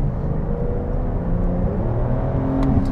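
A Porsche 911 Targa 4 (992) accelerates hard, its engine note climbing in pitch and dropping back with quick gear shifts, a loud, close rumble with rising tonal sweeps.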